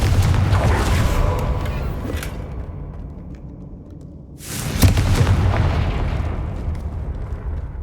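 Confringo spell blast in the video game Hogwarts Legacy, two loud booming explosions with rumbling decay, the second bursting in sharply after a short lull.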